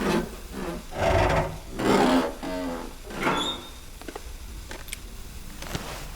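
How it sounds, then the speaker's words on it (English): Lockers being searched in the survival video game The Long Dark, a series of rubbing, rasping metallic-and-wood scrapes in several bursts, fairly close and loud, followed by quieter clicks and faint rustling. "I start searching the lockers"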